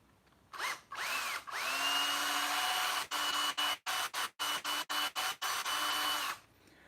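A power drill bores out a die-cast rivet on a Freightliner FLD 120 truck being converted to a flattop: a long whirring run, then a rapid series of short stop-start bursts as the bit is worked around.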